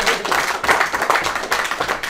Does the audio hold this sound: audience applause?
yes